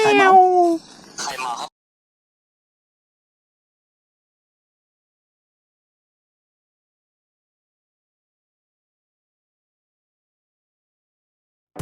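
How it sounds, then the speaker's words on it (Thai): A cat meows in a short burst of tonal calls near the microphone at a house in Pa Daeng, Chiang Dao, Chiang Mai, followed by a long silence and a faint sound at the very end. "แมวแมวแมวแมว แมวแมวแมวแมวแมว"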